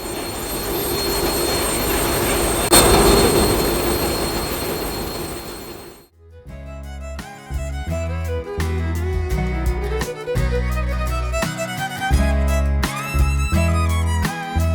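Two large engines in the engine room of the river launch MV Tipu-13 roar loudly and steadily up close for about six seconds before music takes over.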